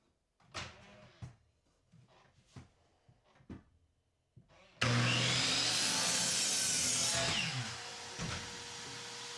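A 2x4 is sawn at a 45-degree angle, first with a few separate knocks and handling sounds of the wood, then a sudden loud, sustained cutting roar that runs close and steady for several seconds.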